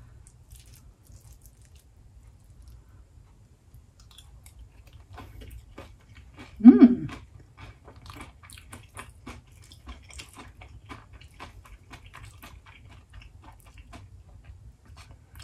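Someone chewing fried sesame shrimp: a sharp crunchy bite followed by soft, close, irregular mastication sounds against near-silence, no talking.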